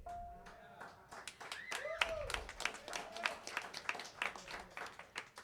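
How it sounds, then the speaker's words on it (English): An audience at a songwriters circle claps after a song introduction, scattered, fairly faint hand claps and light applause tapering off, with a brief pitched voice or sung tone and some talk mixed in. "I had to wait for you to stop clapping"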